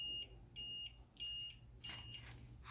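A Stark LL 202G laser level's tilt warning beep pulses in four short repeated bursts with brief gaps, shrill and steady, alone against a quiet background.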